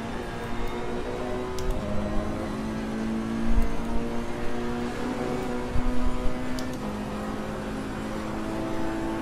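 Ferrari Challenge race car engine in a racing video game, a steady droning whine with shifting pitch as it accelerates, loud and close throughout, with brief louder bursts midway.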